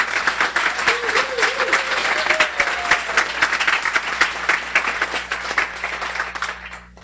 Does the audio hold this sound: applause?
yes